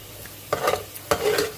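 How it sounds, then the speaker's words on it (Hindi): Golden frying onions and cumin in a pot on the stove give a short sizzle and stirring scrape, with two sharp bursts as ingredients are disturbed, close and moderately loud. "और अब हम इसमें पानी डालेंगे।"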